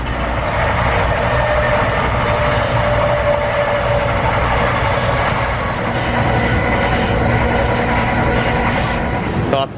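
Inside an NJ Transit commuter train under way, a steady loud rumble of wheels and car body fills the cabin with a faint rhythmic clatter, while passengers talk quietly beneath it.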